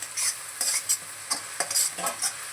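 Spices being sautéed in oil in a pan, with quick rhythmic scraping strokes of a spoon over a soft sizzle, several stirring bursts close up and no talking.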